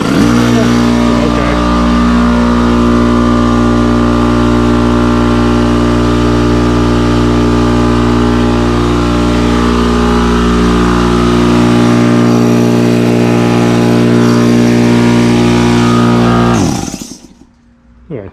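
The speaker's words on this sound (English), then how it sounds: "Okay, old compressor. Have to plug it in here or it'll explode. See if it even starts." Old air compressor starting up and running: a loud, steady motor drone with strong tonal hum that holds for about sixteen seconds, then winds down and cuts off near the end.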